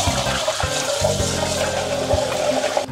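Water from a tap runs steadily and loudly close by for handwashing in a home kitchen, with some hollow splashing against the basin throughout.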